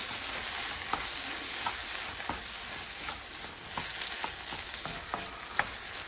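Kothu parotta, Tirunelveli style, being stirred as chili powder and coriander powder go into the frying pan, giving a steady sizzle with repeated sharp scraping taps of the spatula at an irregular rhythm, close and fairly quiet.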